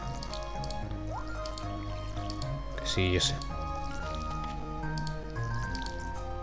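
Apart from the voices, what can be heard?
watering crops in the video game Stardew Valley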